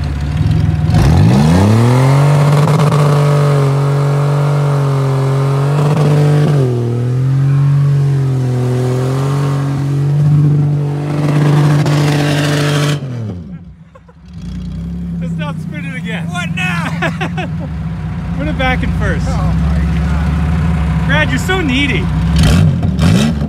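A Buick car engine with a blown transmission revs hard and steadily, loud and close, dipping briefly before rising again, while people talk over it.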